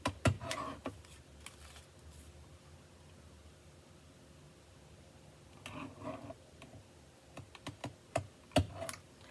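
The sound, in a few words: paper trimmer cutting cardstock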